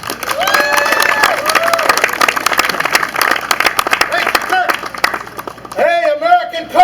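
A large crowd applauds and cheers for comedian Michael Pritchard at a theme park media day, with dense clapping and shouts throughout, rising whoops near the end, and a voice speaking over the noise.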